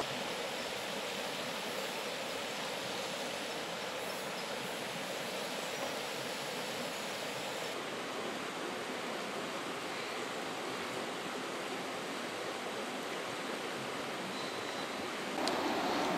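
A woodland stream rushes steadily and evenly throughout, a constant close wash of running water at a woodland camp as water is gathered for coffee, with no voices.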